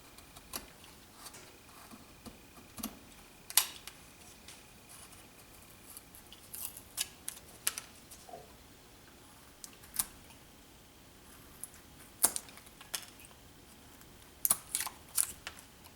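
A carving blade cuts away material around the detail of an ear, making sparse, close, sharp clicks and short scraping snips at irregular intervals over quiet background hiss.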